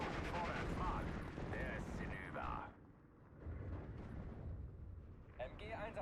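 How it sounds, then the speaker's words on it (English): Bombing explosions rumble through a World War II Steel Division 2 battle, deep heavy blasts and gunfire rolling continuously, easing briefly midway before resuming with distant impacts. "Looks like they're just bombing where we were, not where we are."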